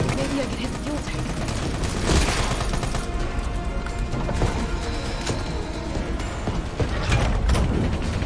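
Gunfire in a Resident Evil game aimed at an enemy's backpack fuel tank, a dense rattle of rapid shots and clanking mechanical sounds mixed with game noise throughout, steady and fairly loud.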